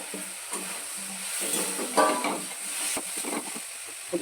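Green peas being stirred into frying masala in a kadai for ghugni, a scraping stir over a steady sizzle, with a louder burst of crackle in the middle.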